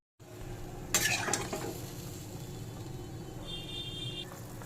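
A lentil fritter curry with added water bubbles in a pan, a low steady simmering hiss after a brief clatter of utensils near the start, with a faint high tone partway through.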